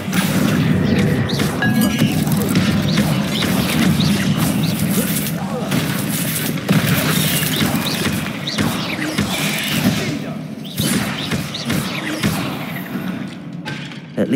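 A Confringo blast spell goes off in Hogwarts Legacy inside a catacomb tomb, a loud, dense burst of booming crashes and thuds that sits under a steady bed of game sound.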